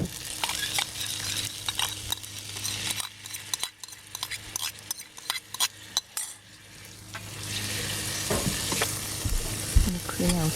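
Shanghai noodles sizzle in a pan with baby pak choy, sauce and shrimp, a steady frying hiss broken by scraping stirs and light metallic clinks of the utensil against the pan.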